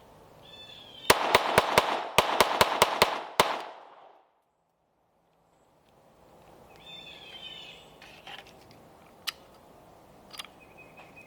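A Sig Sauer P322 pistol fires Remington Thunderbolt .22LR rounds at an outdoor range: a rapid string of about eight sharp, close cracks, then quiet with faint birds and small clicks.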